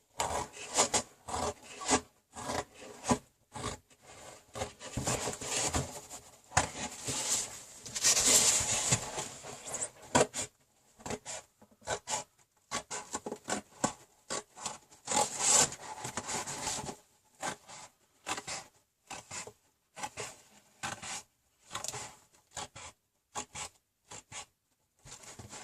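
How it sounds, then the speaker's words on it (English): Scissors cut out a circle in an ASMR craft setting, giving a long series of close, crisp snipping and rasping strokes in irregular rhythm, some louder than others. "So what we need to do is cut the circle out"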